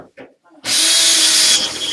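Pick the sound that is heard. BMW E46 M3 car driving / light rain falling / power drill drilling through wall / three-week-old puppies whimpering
power drill drilling through wall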